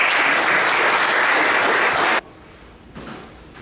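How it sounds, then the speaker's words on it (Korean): Loud, dense applause from a lecture audience welcoming a professor, sustained and even before stopping abruptly, followed by a quiet room and a brief scattered flutter of claps. "우리 김지장 교수님을 큰 박수로 맞아주시기 바랍니다."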